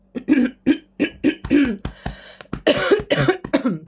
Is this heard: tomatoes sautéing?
no